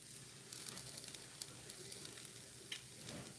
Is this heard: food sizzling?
yes